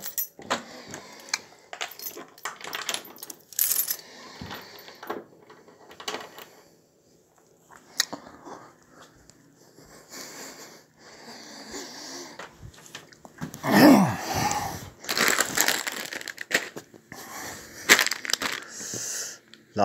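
Crisps being eaten up close, with irregular crunching bites and rustling of the bag, some quiet gaps between bursts and a louder run of chewing near the end.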